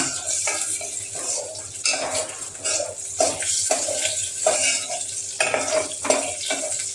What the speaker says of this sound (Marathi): याला लगेच थोडं हलवून हलवायचं पाहिजे